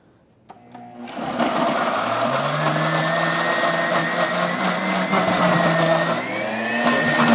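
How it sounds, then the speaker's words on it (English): A kitchen blender motor runs steadily after a brief quiet start, a loud, close whirring hum with a constant pitch that continues to the end, with no talking. "The blender works better when it gets shaken"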